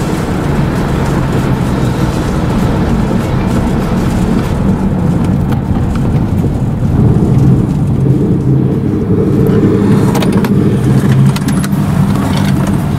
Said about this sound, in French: Doubler des gens comme ça avec ta grosse mercos.